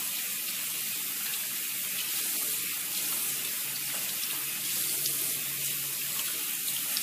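Running tap water pours steadily into a sink while a face is rinsed, a constant close splashing rush with slight shifts in texture throughout and no speech.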